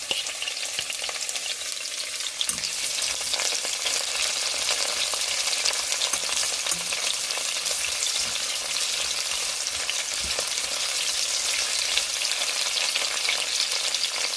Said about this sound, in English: you pretty much just want to just lightly saute it